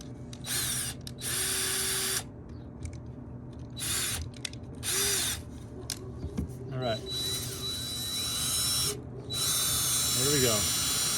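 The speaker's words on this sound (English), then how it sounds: "Put my drill on here. Put it on a low speed just to be safe." A drill spins a dryer vent cleaning brush at low speed, whirring loudly in repeated bursts with brief stops, while someone talks between and over the runs.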